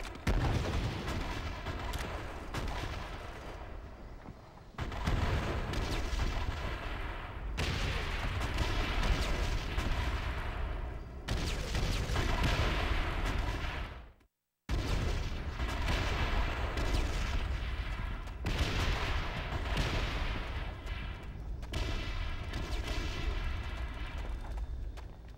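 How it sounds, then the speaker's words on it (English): Artillery barrage in Call of Duty: World at War: repeated heavy booming explosions roll in long, loud bursts, with a brief silent gap midway before the shelling resumes. "Artillery acquired."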